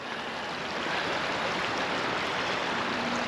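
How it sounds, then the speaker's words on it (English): A river flowing right beside the listener: a loud, steady, close rushing wash of water that holds unchanged throughout, with no voices. "Well, I'm standing right by the river."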